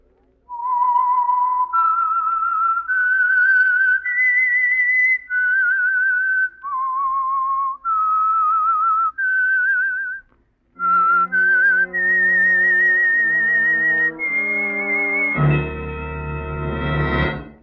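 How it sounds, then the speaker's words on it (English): A lone whistler carries the theme signal of The Whistler radio mystery program, a slow, eerie run of clear sustained notes that step up and down, then ends in a brief burst of orchestral chords. "That whistle is your signal for the Signal Oil Program, The Whistler."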